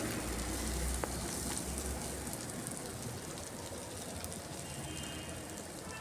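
Onions sizzling in a pan for a Folkopi chicken masala, browning to a reddish colour; a steady, soft, continuous crackle and hiss close by with no one speaking.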